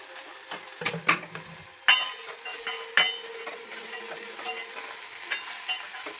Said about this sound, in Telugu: టమాటో వేసుకొని అది బాగా ఫ్రై కావాలా